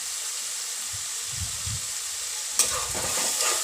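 A spoon stirs sugar into soaked mustard paste for mustard pointed gourd, soft scraping strokes against a low hissing background, with one louder clink near the end.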